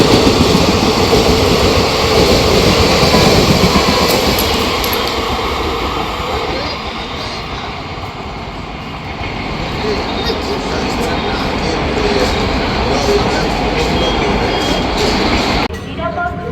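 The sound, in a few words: Lalgola Passenger train passing, hauled by Asansol WAP9 locomotive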